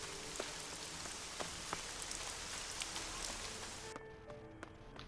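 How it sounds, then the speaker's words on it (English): Constant rain in the video game Elex, a broad hiss dotted with individual drop hits that thins out abruptly near the end, with no speech over it. "It sounds like it's raining."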